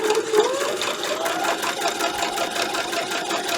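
Sewing machine running steadily while stitching a fabric quilt block, a continuous close whirring hum with fast needle rhythm throughout, no talk.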